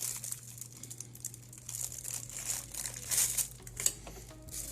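Plastic shrink wrap being cut and handled over a trading card box, making close, irregular crinkles and crackles that grow denser toward the end, with a steady low hum underneath and no talking.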